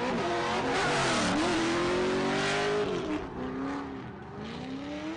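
Matt Field's Formula Drift car at full throttle on a banked track during qualifying, its engine screaming loud and sustained with rising and falling revs, dipping briefly before climbing again.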